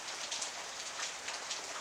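Steady rain falls during a drizzly day in Yasothon province, Thailand, a continuous even hiss with soft pattering drops, fairly quiet and unbroken, with no voices.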